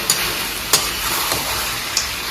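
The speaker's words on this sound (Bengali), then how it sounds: "মাংসখিনি দি লৈ আমি ঢাকন দিয়া নাই ধুনীয়াকৈ ঢাকন নিদিয়াকৈ ভাজি আছোঁ" Mutton pieces frying uncovered in a pan make a steady, loud sizzle, broken by a few brief sharp crackles and stirring scrapes.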